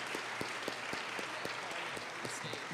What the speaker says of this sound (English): Can y'all please give her another round of applause for that?